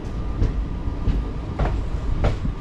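A train sits at Calicut railway station in Kerala early in the morning, loud rumbling with low mechanical hum and periodic clanks and thumps of railcars, no speech.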